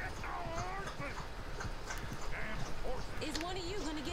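Horses clip-clopping in Red Dead Redemption 2, hoofbeats running under game dialogue and a player's commentary, with whistled and voiced tones in the mix, fairly faint.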